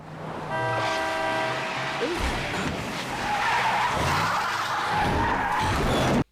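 A black van speeds along in the film Twilight with tires skidding and squealing, a loud sustained screech over engine roar, with engine tones shifting through the scene.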